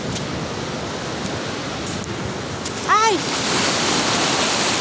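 A river runs strong and fast after Typhoon Auring, a loud, steady broadband rush of water that swells louder near the end, with a woman's brief exclamation over it.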